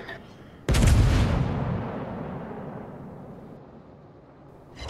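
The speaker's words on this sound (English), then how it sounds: "Hey, I'm gonna take a shot against cruiser right here. Fire!" Heavy naval gunfire from a World of Warships battleship firing its main guns at a cruiser: one sudden loud boom followed by a long rumbling decay.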